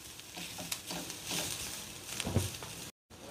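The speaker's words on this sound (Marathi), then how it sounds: "तुम्ही वाळलेलं खोबरं घेतलं तरी तेही ह्याच टायमिंगला घालायचे आणि छान परतून घ्यायचे।" Dried coconut sautéed with onion in a pan, a soft sizzle broken by scraping stirs and light pattering, close and moderately quiet, with a brief dropout near the end.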